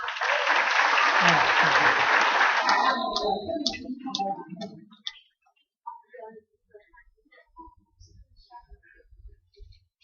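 Audience applause at a youth camp event held at a mountain lodge, a dense burst of clapping that fades out after about five seconds, followed by scattered faint clicks and quiet room noise.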